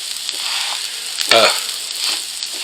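Rice and onions fry in a pan, with a continuous sizzle and a short louder burst of crackling and stirring partway through. No one speaks.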